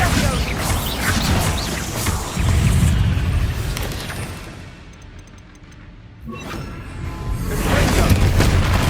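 Bombarda spell blasts in Hogwarts Legacy, heavy booming explosions and crashing debris rumbling loudly through the opening seconds, easing into a quieter lull midway before another burst of crashing noise returns near the end.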